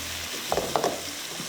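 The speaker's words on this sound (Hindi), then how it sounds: "थोड़ा सा इसको और फ्राई करती हूँ।" Chicken pieces fry with black pepper in a hot pan, giving a steady sizzle broken by a few sharp stirring scrapes and clatters from a utensil, close and moderately loud.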